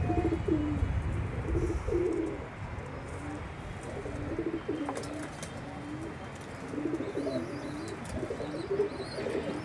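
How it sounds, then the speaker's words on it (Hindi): Domestic pigeons on a home rooftop coo in repeated low, throaty phrases, moderately near, against steady outdoor background noise, with the rolling calls continuing through the whole stretch. "क्या भाई कैसे उड़ रहे कबूतर?"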